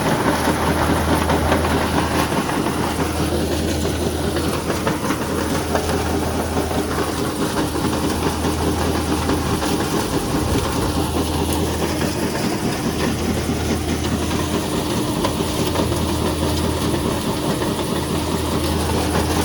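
Wood chipper chipping wet wood, a loud steady mechanical drone and grinding rumble that runs without a break, with no talk.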